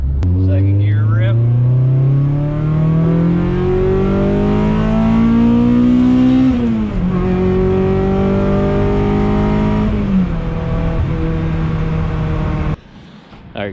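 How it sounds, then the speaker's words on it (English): A 1994 Honda Accord engine revs hard in second gear, pitch climbing steadily and loud, with a brief shift dip midway before pulling again and cutting off near the end. "Second gear rip."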